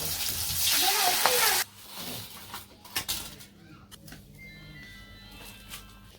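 Bora fritters fry in hot oil in a home kitchen, some made with flowers, pumpkin leaves or other leaves. A loud, steady sizzle fills the first second and a half, then fades to quieter bubbling with faint clatter.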